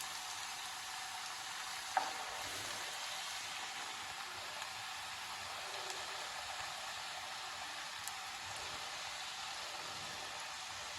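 French fries deep-frying in hot oil for a first half-cook, a steady soft bubbling sizzle with a small clink near the start, alone without voices.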